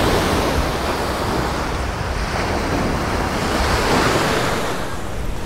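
Choppy sea surf rolls and washes continuously onto a tropical beach in Egypt, loud and close with constant wind buffeting the microphone and no voices.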